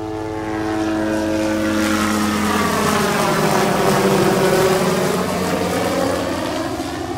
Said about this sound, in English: There's a chopper flying right up over the beach here.